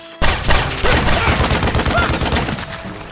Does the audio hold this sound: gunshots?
yes